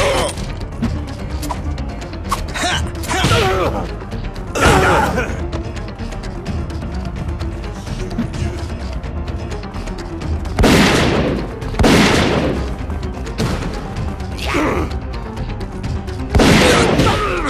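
Gunfire in the first-person brawler Zeno Clash rings out as repeated loud blasts and bursts spread across a split-screen co-op tower challenge, separated by quieter stretches of game ambience.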